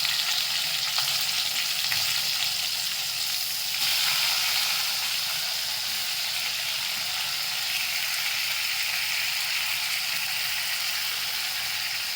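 Continuous loud frying sizzle of tomatoes in spice tempering in a pan, steady and close, with faint scraping stirs and a brief surge near the start; no talking.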